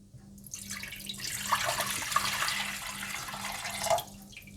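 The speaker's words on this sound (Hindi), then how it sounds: "तो सबसे पहले आप पानी डाल लें।" Water from a cup pours steadily into a cooking pot for cauliflower soup. It makes a continuous splashing gush for about four seconds and then stops abruptly, close and fairly loud, with no speech.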